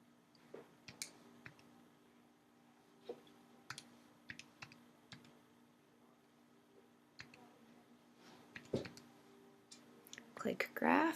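Soft, scattered key presses on a graphing calculator as an equation is entered, faint clicks spaced irregularly beneath quiet talk, ending in a louder rustle.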